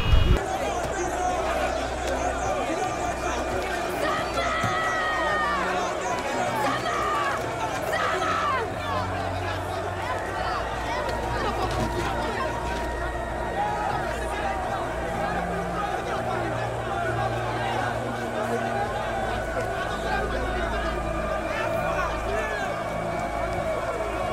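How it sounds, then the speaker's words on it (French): A steady crowd murmur with indistinct chatter runs throughout a film scene being mixed, dense and continuous at an even level, with a voice speaking over it. "Et la foule, la présence de la foule"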